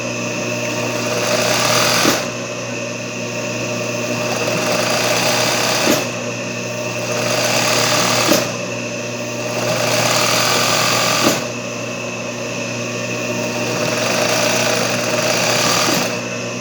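Sewing machine running fast zigzag stitches on a Richelieu cushion, a loud steady mechanical whir in long runs broken by brief pauses and knocks every few seconds.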